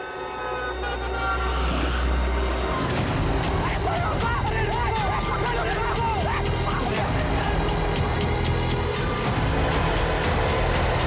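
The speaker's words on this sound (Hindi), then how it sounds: "गाड़ी आ रही है" Train rumbling close by at a loud, steady level with a horn-like tonal blast near the start, heavy low-end roar throughout and clattering bursts, set in a crime drama scene.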